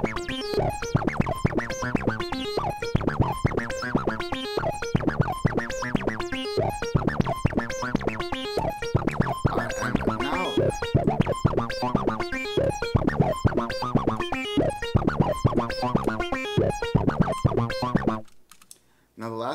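A synth in Reason is modulated by an inverted LFO control voltage. It plays a fast, busy pattern of short plucky notes whose tone keeps shifting, then cuts off near the end.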